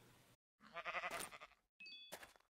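Sheep in a video game bleat a few times in quick, close, wavering cries, with short gaps of silence between them.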